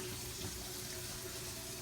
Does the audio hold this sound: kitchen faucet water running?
yes